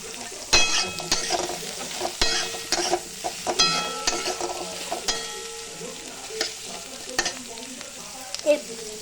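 Potato and onion fry in a pan with a continuous sizzle, while a spatula scrapes and clinks against the metal in irregular strokes close by.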